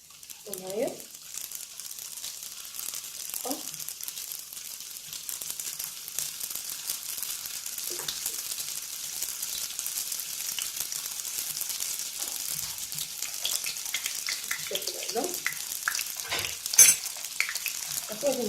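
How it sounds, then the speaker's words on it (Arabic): Cream-filled beignets frying in hot oil, a steady close sizzle and bubbling that runs throughout, with a few brief bits of voice and light utensil sounds over it. "غادي نبداو تنقليو في البيني"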